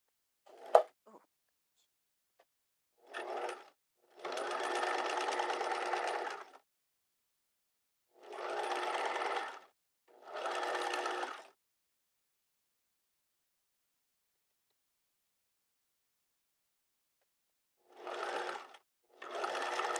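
A sewing machine stitches a seam across two edges of a square neck top, running in several separate bursts of a few seconds each with quiet pauses between.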